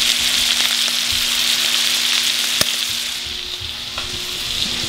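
Beef or liver sears in a hot frying pan with a loud, steady, close sizzle that holds throughout, broken by one sharp tick.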